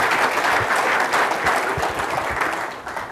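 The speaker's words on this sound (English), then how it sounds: "So please give a big round of applause for the sponsors." A conference audience applauds the event sponsors at an opening session, a full, sustained roar of many hands clapping with faint crowd murmur beneath.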